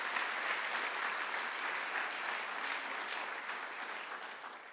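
Audience at a university convocation applauding steadily, a dense wash of clapping that holds for several seconds and slowly eases toward the end.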